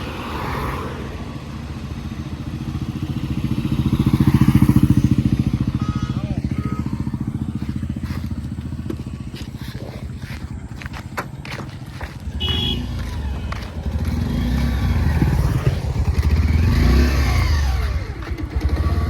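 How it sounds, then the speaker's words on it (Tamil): A Bajaj Pulsar motorcycle engine runs steadily, rising into a rev and then settling into a continuous riding drone with shifting pitch, loud and close. "பல்சர் ஸ்டார்ட் ஆயிடுச்சு"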